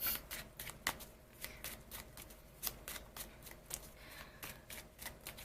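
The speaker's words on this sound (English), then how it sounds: "the shuffling is going to take some time" Tarot cards being shuffled by hand, a series of quick crisp riffles and slaps in an irregular rhythm, close and fairly quiet with no voice.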